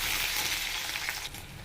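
Onion and gondhoraj lemon leaves frying in hot oil while being stirred for a dried-fish (shutki) dish, a close, continuous bright sizzle with faint scraping, no talk.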